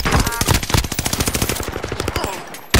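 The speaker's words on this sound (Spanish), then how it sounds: "me está disparando un sniper de la derecha" Rapid sniper and automatic gunfire from the Call of Duty Warzone video game, a dense run of sharp, loud shots crackling in quick succession before cutting off near the end.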